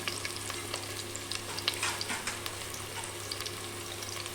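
Steady sizzling of onions frying in hot oil for tempering crab curry, with faint crackles and pops over a low constant hum, no voices.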